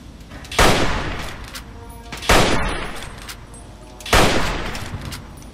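Three loud, sharp bursts of gunfire in Fallout 3 each ring out and decay, spaced roughly a second and a half apart, with faint game ambience between them.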